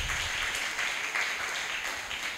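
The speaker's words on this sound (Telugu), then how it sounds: "చప్పట్లు కొట్టి దేవుని నామాన్ని గణపరుద్దాం." A church congregation at a Sunday morning service claps together in a dense, steady burst of applause lasting a couple of seconds, fairly close and with no talk over it.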